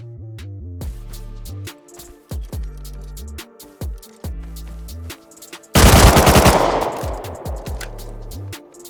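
An M2 machine gun fires in Rust Console Edition from a rooftop. Several short bursts of rapid shots ring out at a distance, followed by one louder, closer blast with a long crackling decay.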